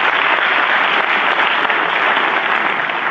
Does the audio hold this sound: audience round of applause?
yes